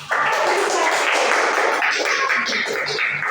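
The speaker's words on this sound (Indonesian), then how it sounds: "Dan tepuk tangan." Classroom applause during a chemistry lesson on physical and chemical change, a steady dense patter of many hands clapping that holds at an even loudness for the whole stretch, with no talk over it.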